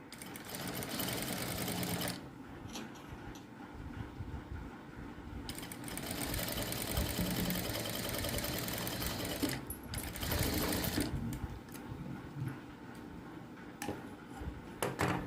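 A sewing machine stitches a straight seam on a blouse in close, rapid mechanical runs, with brief pauses between bursts of stitching.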